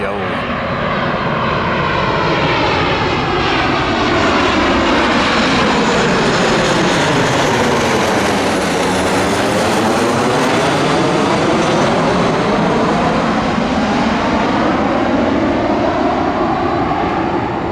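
A jet airliner with Neo engines roars steadily on runway 18 at Orlando MCO, a loud, sustained engine rumble with a sweeping tonal whine that dips and rises as it passes close by.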